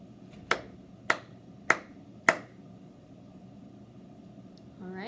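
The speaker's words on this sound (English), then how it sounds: "I will clap it again" Four sharp, evenly spaced hand claps beat out a rhythm in a quiet room during a music note lesson, followed by a pause and a faint stir of sound at the end.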